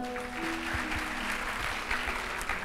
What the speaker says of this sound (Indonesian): Tepuk tangan dong buat anak-anak lighting gue.